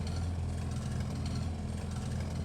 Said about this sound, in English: So let's put it into first gear and let's add some throttle.